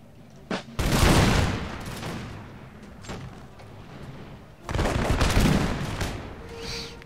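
Musket volleys from line infantry in Empire Total War, two dense crackling bursts of massed fire with scattered single shots between, fairly loud and without talk.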